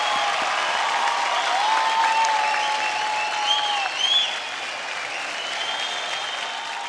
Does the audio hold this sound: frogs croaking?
no